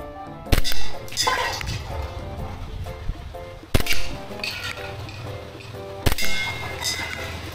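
A Glock 34 Gen4 airsoft pistol is fired at a target outdoors in a yard: three sharp separate shots, each followed by a metallic clang of the hit, with background noise in between.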